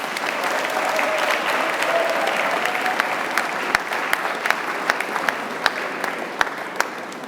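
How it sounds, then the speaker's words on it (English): Sustained applause from a graduation ceremony audience, dense and steady throughout with a few sharper individual claps standing out toward the end. "I think a big round of applause for everybody"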